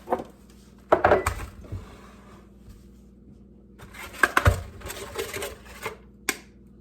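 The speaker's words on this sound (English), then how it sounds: "to that, we are going to add 2 eggs" Two eggs go into a bowl of mashed bananas for banana bread, heard as sharp taps and cracks against the bowl in two clusters, close and crisp over a quiet kitchen background.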